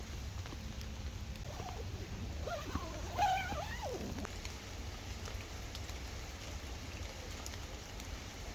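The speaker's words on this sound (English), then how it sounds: "It's still raining outside right now." Rain falls steadily on a Vango Nevis 100 tent during wild camping, a constant close patter on the fabric throughout, with a brief faint call standing out in the middle.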